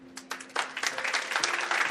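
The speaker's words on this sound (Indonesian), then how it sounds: "Tepuk tangannya kali ini agak berat," A church congregation claps during a sermon, scattered claps building quickly into fuller, brisk applause over two seconds.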